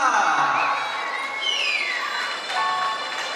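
Wedding guests cheer and whoop for the godmother, a short burst of crowd shouting and high excited voices, loud at first, then easing slightly.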